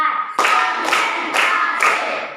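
Four separate sharp, loud hand claps in even rhythm from a classroom clapping game, each ringing briefly in the room before the next.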